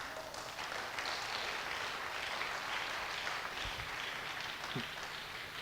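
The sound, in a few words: applause for Jesus in church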